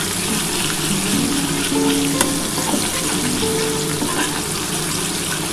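Green chillies and Kashmiri chilli powder frying in hot oil in a pan, a steady close sizzle and crackle with occasional stirring scrapes throughout.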